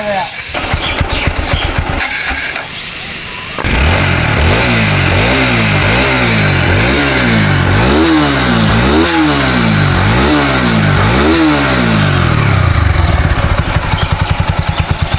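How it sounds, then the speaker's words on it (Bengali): A TVS Apache 4V 160cc ABS motorcycle engine cranks and fires, settles into an idle, then revs up and down in a steady series of rising and falling pulls, loud and close throughout. "দর্শকের বাইকটা এখন আমরা তাকে স্টার্ট করে সাউন্ড কন্ডিশন দেখাবো"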